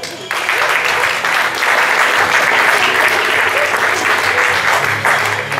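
An audience at a cycling team's private presentation bursts into loud, sustained applause. The dense clapping quickly swells and holds steady for several seconds.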